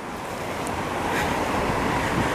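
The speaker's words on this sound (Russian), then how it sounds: "Там море. Ветер есть, но небольшой такой." Sea waves and wind on a Spanish coast: a steady, fairly loud wash of surf with gusty wind noise over it and no voices.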